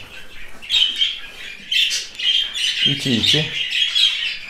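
Young budgerigars squawk and chirp in shrill, overlapping bursts as they scuffle in a cage, close and loud, with a brief lower chattering call partway through and a person speaking softly among them.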